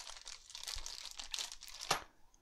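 A plastic bag of computer cooler accessories crinkles and rustles in short, irregular bursts close by, ending with one louder crackle before quieting.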